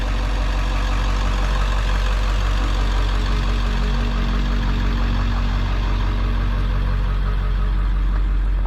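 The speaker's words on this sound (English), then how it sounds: "I'm sorry if the audio is picking up this truck sound." A steady, rumbling truck engine idles close by, a low continuous drone with a faint knocking texture and no speech.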